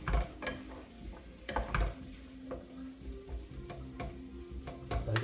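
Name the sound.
food sizzling and bubbling in a pan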